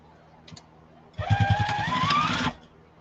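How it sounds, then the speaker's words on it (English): A sewing machine top stitches a fabric yarn bag in one close, steady burst of about a second and a half, with a soft click beforehand and a quiet room around it. "top stitch it from the top so I can keep an eye on my handles"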